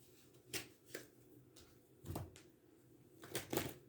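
A deck of cards is shuffled at close range in a quiet room, giving several short riffling bursts spaced out with pauses between them.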